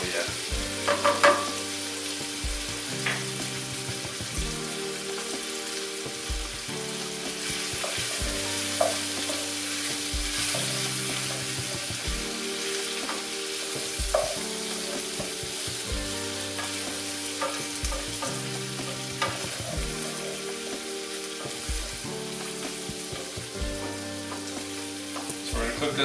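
Finely minced aromatics sizzle and fry in a pan for butter chicken, with steady crackling broken by regular stirring scrapes in a repeating rhythm, close and continuous throughout.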